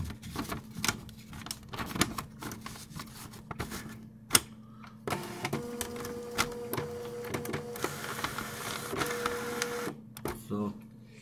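An old dot matrix needle printer chatters in quick buzzing bursts with rhythmic head clicks, fairly quiet and close, while someone talks over it between runs.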